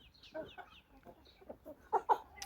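Hens and roosters of a large rare breed cluck in short, quiet bursts, several birds near and farther off, with two louder clucks toward the end and no talking.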